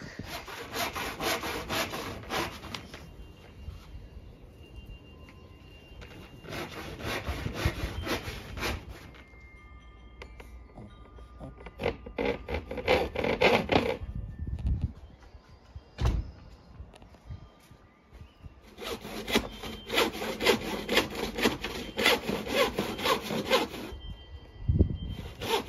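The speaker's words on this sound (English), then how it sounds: "We're going to attempt to cut the radiator cover because it doesn't fit quite right." Wooden radiator cover being hand sawn to fit, rhythmic rasping strokes in bursts with pauses, a few knocks and scraping between cuts, close and loud.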